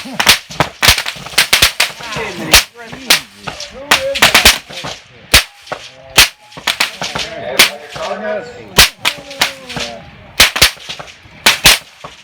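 Rapid sharp gunshots from a Springfield Armory M1A Match rifle at the Camp Perry, Ohio matches, with many loud cracks in an irregular sequence. Neighboring shots ring out over a busy firing line, and voices can be heard in the background.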